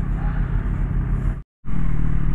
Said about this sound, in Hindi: बाप रे क्या ट्रैफिक है